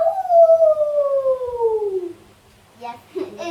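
A single wolf howl, long and smooth, gliding slowly downward in pitch for about two seconds and fading out, followed by faint scattered background sounds.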